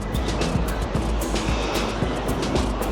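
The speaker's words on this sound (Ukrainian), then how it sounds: "Дуже приємний шум моря" Sea surf washes onto a stony shore with steady broadband rushing and repeated soft breaking pulses, fairly loud and continuous, with no voices over it.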